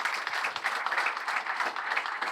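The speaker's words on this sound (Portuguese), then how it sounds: "Uma salva de palmas para os nossos parceiros." An audience at a team's 2026 squad presentation event gives a round of applause for the club's partners, steady dense clapping from a nearby crowd without a break and without any speech.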